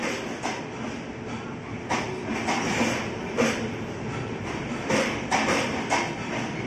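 The Hemkund Express rolls into platform 3 at an Indian railway station with steady rumbling and rhythmic clickety-clack of wheels over rail joints, fairly close and moderately loud, with no talk.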